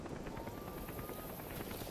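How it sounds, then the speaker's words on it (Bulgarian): A helicopter in Metal Gear Solid V drones steadily with a fast, even rotor chop, loud and continuous throughout. "А то хеликоптер по-бързо не може да дойде."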